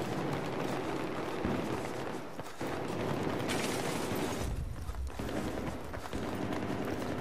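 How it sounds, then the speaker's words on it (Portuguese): Heavy gunfire rages all around in Battlefield 3's metro battle, a dense, continuous wall of shots and blasts that stays loud throughout with barely a pause. "Só tiro comendo pra todo lado aqui, velho."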